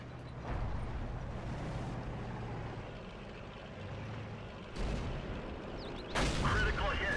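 Tank guns firing in World of Tanks, several heavy booming shots and blasts over a rumbling engine bed, the loudest near the end, with someone talking quietly beneath.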